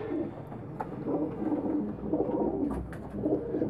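Pigeons coo repeatedly at close range in a loft, a low steady burbling with overlapping calls from several birds, before being boxed in cartons for shipping.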